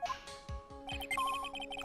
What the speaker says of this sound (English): That's the sound of the metal detector signal bouncing off of something metallic